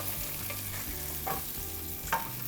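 Zucchini frying gently in a pan, a soft steady sizzle close by with a couple of brief scraping stirs, no talking.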